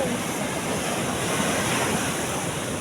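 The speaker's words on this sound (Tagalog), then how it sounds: "Ang alon ay nalakas na." Steady roar of ocean waves and surf with wind noise near Alabat, Quezon, loud and continuous, no voices.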